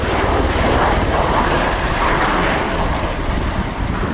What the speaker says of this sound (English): the engine's parked in the 60-degree position, aircraft slowing down, mix of wing-borne and rotor-borne flight